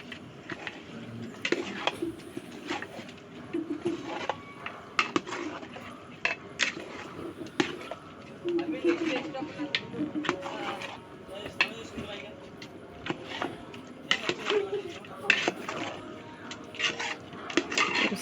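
Four kilograms of mutton pieces are stirred and turned in a large cooking pot over a village-style wood-fired stove, giving a steady run of scraping, knocking and clattering of metal against metal.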